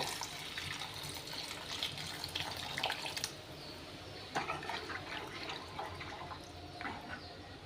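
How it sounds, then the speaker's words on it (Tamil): Tamarind water poured into a pan of sautéed rasam ingredients, a steady gushing and splashing of liquid that runs for several seconds, fairly close and without talk. "நம்ம புளி தண்ணி கரைச்சி வச்சோம்ல இதை ஆட் பண்ணிக்கோங்க"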